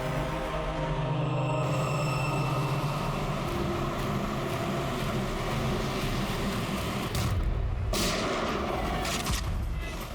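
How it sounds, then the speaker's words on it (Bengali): Pistol gunfire in a tense confrontation scene on an Indian police crime drama, heard as loud, dense bursts of shots and booming blasts running through the whole stretch with no talk over them. "চালাও গুলি। নেবালা, পিস্তল নে।"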